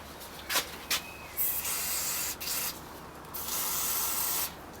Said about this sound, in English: I'm just going to give it a little spray of something.